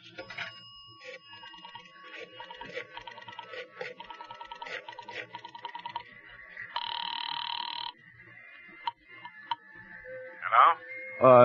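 A telephone line in an old-time suspense radio drama gives a quick run of dialing clicks and tones, then a buzzing ring. More short tones follow near the end.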